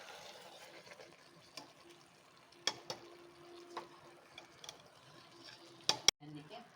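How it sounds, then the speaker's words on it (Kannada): Chicken biryani mixture stirred in a pan over low flame, soft scraping with a few sharp clinks of the spoon against the pan, close and fairly quiet, with faint background sounds. "ಇವಾಗ ಇದೆಲ್ಲ ಮಿಕ್ಸ್ ಮಾಡಿಕೊಂಡು ಇವಾಗ ಚೆಕ್ ಮಾಡ್ಕೊಳ್ಳಿ"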